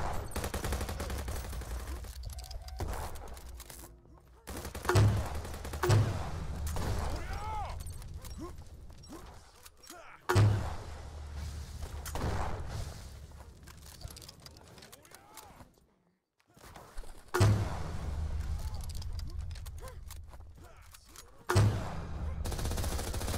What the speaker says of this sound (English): Number 6 comes our shotgun